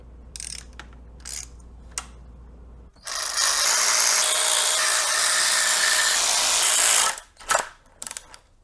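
A hand ratchet tightens bolts on the cylinder head of a BMW E34's S52 engine, giving several short bursts of clicking followed by a long, steady stretch of ratcheting close up, then a few quick clicks at the end.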